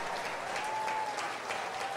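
A church congregation claps hands together in a steady, dense wash of applause that runs evenly throughout without a break.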